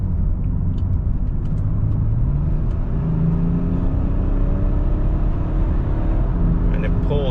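A tuned BMW X5 35d diesel SUV accelerating hard, a loud continuous low engine drone and road rumble filling the whole stretch, rising steadily as it pulls.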